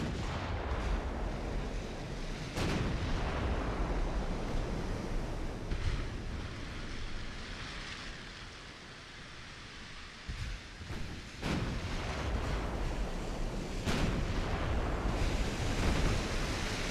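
Naval gunfire from an enemy warship in the Ultimate Admiral Dreadnoughts game: several heavy booming salvos burst out at irregular intervals over a constant roar of wind and surging sea, fairly loud with no voices.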